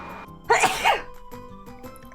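A person sneezes loudly close by, a sharp burst followed by a second sneeze, then quieter background sounds of a Tales of Symphonia playthrough.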